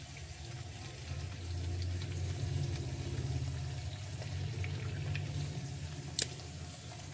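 Oil bubbles while something fries, a faint, steady low bubbling hiss that holds evenly throughout, with one brief sharp tick near the end and no voices.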